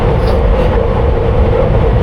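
A London Underground Piccadilly Line train runs at speed, heard from the rear cab as a loud, steady rumble and roar with no pauses and no talk.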